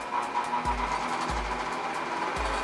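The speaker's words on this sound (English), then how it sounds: "I'll turn on the bench grinder" Bench grinder running off a power inverter, a steady motor hum with a high whine and regular low thumps recurring roughly every two-thirds of a second, with no speech.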